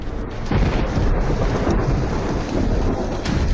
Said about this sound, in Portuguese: Eu vou te dar uma chuva artificial.